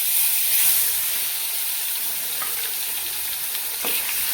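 Turmeric and coriander powder masala stirred and frying in a pan for a vegetable curry, giving a steady sizzling hiss with faint scraping of the stirring, close and alone.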